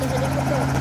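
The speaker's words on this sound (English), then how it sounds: "Oh my god, wait, there's a helicopter!" A loud, steady helicopter drone in the Roblox game Mad City, with a low rotor hum, fills the short moment, close and continuous.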